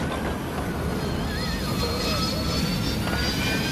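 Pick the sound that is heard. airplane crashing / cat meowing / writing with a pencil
airplane crashing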